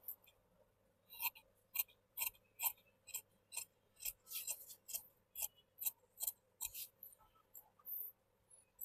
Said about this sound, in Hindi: अभी पीछे का पल्ला हटा लेने के बाद हम लोग ये शेप काट लेंगे।